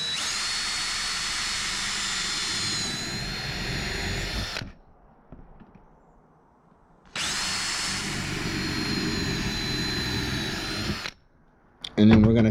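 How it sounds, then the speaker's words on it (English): A power drill with a 1/8-inch bit pre-drills a hole while a storm door is being installed, whining loudly in two long bursts of about four seconds each, separated by a short quiet gap and ending in a brief clunk. "We're going to pre-drill a hole."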